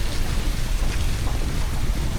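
Steady rain falls on the misty forest slopes of Mount Kenya along a damp forest road, a dense, continuous wash of drops with a low rumble beneath and no pauses.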